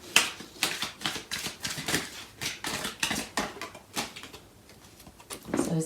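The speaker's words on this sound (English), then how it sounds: "I'm going to pull out some cards from the other deck." Tarot cards are pulled and flicked from a deck close up, giving a quick run of soft papery snaps and taps that slow briefly before picking up again.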